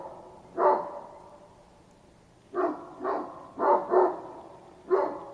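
Two dogs bark indoors: a single loud bark, a pause, then a quick run of five sharp barks in close succession, clear and near with no other sound.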